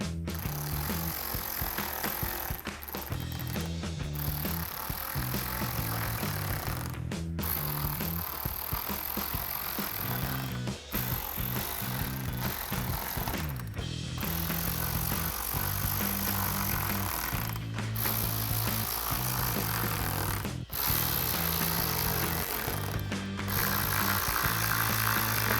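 A 7mm socket drives bolts on a 2024-2025 Mustang chin spoiler lip extension, making repeated bursts of ratcheting clicks separated by brief pauses, close and fairly quiet.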